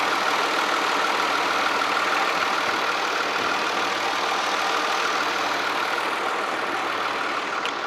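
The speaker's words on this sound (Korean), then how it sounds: "엔진 소리 먼저 한번 들려드릴게요" A Kia K7 car engine idles steadily at close range, a smooth continuous rumble with a faint mechanical hum, with no voices throughout.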